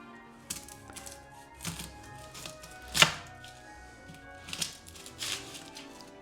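A knife cuts through a large head of garlic on a board, a sharp crunching chop in the middle among a few softer knocks and taps, close up and quiet, with no talking.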